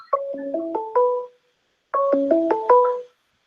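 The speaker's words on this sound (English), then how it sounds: "my phone should not be ringing" A mobile phone ringtone plays a short rising melodic phrase of clear electronic tones, pauses for about a second, then repeats the same phrase, loud and close.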